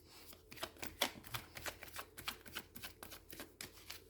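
Lenormand cards being shuffled by hand, a steady run of soft riffling flicks and slaps close up, with no voices.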